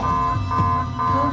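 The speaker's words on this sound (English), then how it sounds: "suddenly, a loud alarm began to sound." A loud, steady electronic alarm blares continuously with a sustained tone, close and dominant throughout, no voices.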